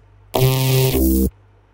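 One dense, distorted synth hit, reshaped by turning its time knob, holds for about a second and drops to a lower boomy tone before cutting out abruptly.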